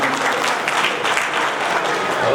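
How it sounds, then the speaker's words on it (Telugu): Crowd at a Lions Club installation ceremony in Nizamabad claps in a sustained, thick burst of applause, loud and continuous, with faint voices mixed underneath. "వారిని మనం చప్పట్ల ద్వారా వాళ్ళని అభినందిద్దాం"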